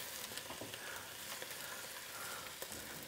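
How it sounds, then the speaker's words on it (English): Vegetables sizzle in a hot oiled frying pan, a steady close hiss and crackle with small pops throughout and no talking. "Vegetables are starting to get sizzling."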